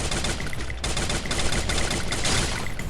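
Rapid bursts of automatic gunfire in the Free Fire battle royale game, dense and continuous crackling shots filling the whole stretch, loud and close with no pauses.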